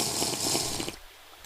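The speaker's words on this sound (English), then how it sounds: "Water." Water flows in a Minecraft game with a steady, splashy rushing sound that cuts off abruptly near the end, leaving faint quiet.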